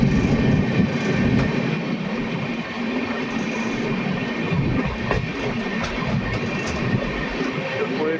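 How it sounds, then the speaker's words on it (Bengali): Another train pulling into Bhadrak station, a continuous close rumble and rattle of rolling carriages holding a steady level, with some talk mixed in. "ভদ্রক স্টেশনে, আর একটা ট্রেন ঢুকছে।"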